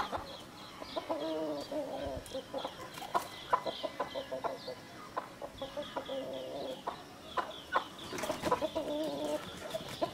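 Aseel hens cluck steadily in a village yard, their short, repeated calls overlapping in an uneven rhythm close by, with scattered scuffs, knocks and a few brief louder squawks.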